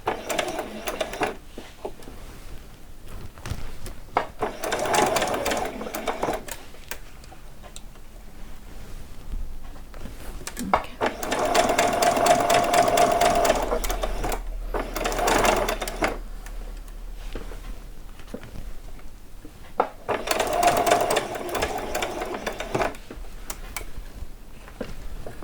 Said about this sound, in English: I'm not doing a very fast stitch, I'm just going slow and moving it around, keeping that foot just there on the edge of the fabric